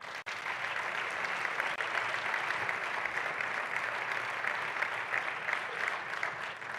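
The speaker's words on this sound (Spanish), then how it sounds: "Un aplauso para él" An audience at a basketball Hall of Fame ceremony gives sustained, even applause for a national team coach, a dense wash of clapping heard alone without speech.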